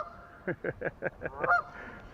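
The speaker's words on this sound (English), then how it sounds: "She loves running the geese off too." A quick run of six nasal honks from geese, evenly spaced, fairly close, ending in a slightly louder squawk against a quiet outdoor background.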